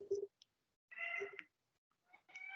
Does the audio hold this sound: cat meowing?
yes